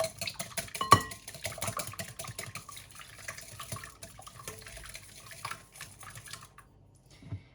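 Eggs being stirred into a bowl of flour, grated cheese and chopped sausage, with light clicking and scraping taps throughout and one sharper knock near the start, no talking.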